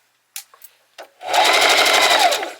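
A Singer Heavy Duty sewing machine runs in one steady, rapidly pulsing burst of stitching after a few sharp clicks and handling taps, loud and close with no talking.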